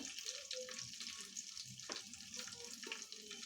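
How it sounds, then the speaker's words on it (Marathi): Green chilies frying in a pan for masala bhaat give a faint, steady sizzling hiss, with a few soft clinks and stirring sounds mixed in. "मिरच्या थोड्याशा परतू द्यायच्या"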